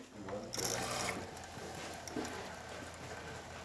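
A brief mechanical burst, then a steady hiss of hot water pouring from a DeLonghi Magnifica S espresso machine, fairly quiet and continuous.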